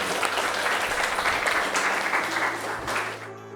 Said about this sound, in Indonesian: tepuk tangan untuk Meron.